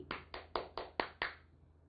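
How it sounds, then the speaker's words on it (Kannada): Six sharp, evenly spaced hand claps ring out close and clear as applause for a child singer, then stop abruptly. "ಅವನಿಗೆ ಕನ್ನಡದ ಚಪ್ಪಾಳೆ"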